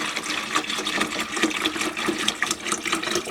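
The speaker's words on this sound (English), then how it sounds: "So I'm going to put some water in here." Water poured from a cup into a hydroponic lettuce container indoors, a continuous close splashing trickle with steady bubbling texture, no talking.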